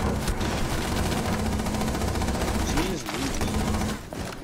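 Rapid gunfire in a multiplayer shooter video game, a steady stream of shots and bursts running under game music and a player's voice, close and fairly loud throughout.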